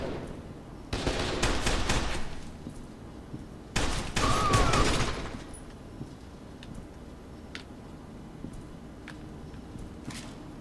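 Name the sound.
assault rifle gunfire in video game F.E.A.R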